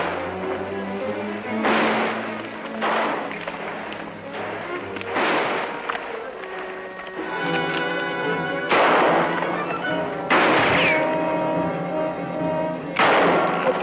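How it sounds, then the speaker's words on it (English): Gunfire in a shootout from a western TV show, with several sharp shots spread across the scene over a steady bed of dramatic orchestral music and sound effects, fairly loud and close. "There's only one of them shooting at us."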